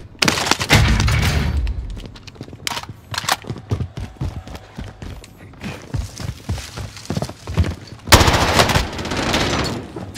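Video game gunfire rattles in loud automatic bursts at the start, then sporadic shots and clatter in the middle, and another heavy sustained burst near the end, with faint voices underneath.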